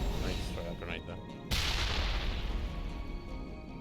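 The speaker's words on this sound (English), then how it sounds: "I need to throw that grenade there." A grenade detonates in Mass Effect with a sudden loud boom partway through, after scattered gunfire, then a rumbling blast tail that fades slowly.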